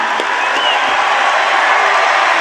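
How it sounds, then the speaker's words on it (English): An audience at a political rally applauds and cheers as a guest leaves the stage, a dense, loud, continuous wash of clapping and crowd noise with no pauses. "The whole place, we're going to clap as you leave."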